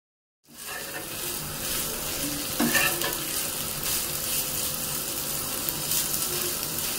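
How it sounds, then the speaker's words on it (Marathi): Vegetables stirred into a spice masala with a little water on a tawa, giving a steady sizzle with scraping stir strokes and one sharper clatter midway. "त्यामध्ये सर्व भाज्या मिक्स करून घ्यायच्या आहेत."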